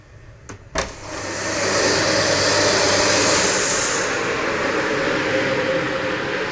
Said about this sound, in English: from here you do the cleanup with a vacuum cleaner